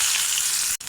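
Chopped onion hits hot oil after frying fish, giving a loud, close, continuous sizzle with a brief dropout near the end of the second.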